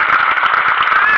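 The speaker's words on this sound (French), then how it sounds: "Ici, on a Mathilde, bien sûr, qu'on peut applaudir." A short burst of audience applause at a circus-tent show, dense and steady throughout.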